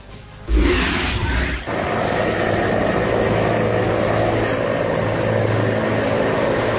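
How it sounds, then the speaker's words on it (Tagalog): Helicopters arriving one after another at Laoag City International Airport in Ilocos Norte, a steady loud rotor and engine roar that swells in early on and holds close and constant throughout, with no talk. "sunod-sunod nang nagsidatingan sa Lawag City International Airport sa Ilocos Norte ang mga helicopter"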